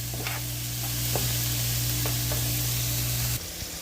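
Butter sizzling and frying steadily in a pan with mushrooms for a vegan Alfredo sauce, a continuous close hiss with a low hum underneath and a few faint clicks, no talking.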